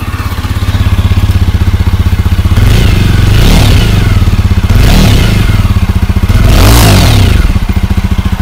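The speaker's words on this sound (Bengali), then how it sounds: "এবার তোমাদেরকে এই বাইকটার সাউন্ড শোনাই, কেমন এটা সাউন্ড করে।" A 2024 Jawa Bobber 42 single-cylinder motorcycle with dual exhaust idles loud and close with a pulsing thump, rising in three distinct revs and dropping back to idle each time.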